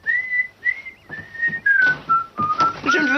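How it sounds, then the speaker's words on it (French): A person whistles a clear, sustained melodic tune in several held phrases with short breaks, loud and close, with clattering household sounds underneath during a quiet evening at home. "Je ne veux pas vous entendre siffler."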